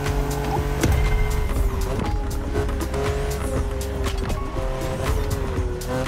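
A BMW Z4 M40i convertible drives in the video game The Crew Motorfest, its engine holding a loud steady drone with shifting pitch and brief tire noise, close and continuous with no voices.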